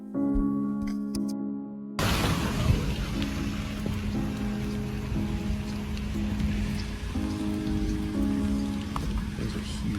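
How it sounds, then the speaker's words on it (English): Heavy rain pours steadily during a storm in Los Angeles, a dense continuous wash with a low rumble like water splashing on a street, loud and close after a short quieter opening. "storm rages in Los Angeles."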